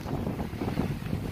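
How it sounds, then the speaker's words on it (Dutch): Strong wind roars and buffets against the microphone on a ferry deck, a dense, low rushing noise with a hint of engine and water beneath. "Het waait heel hard hier ook."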